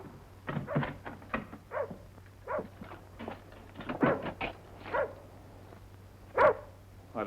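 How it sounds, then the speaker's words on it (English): A dog barks repeatedly outside, sharp separate barks coming at irregular intervals at moderate distance, with one louder bark near the end and a steady low hum underneath. "Is that your dog outside?"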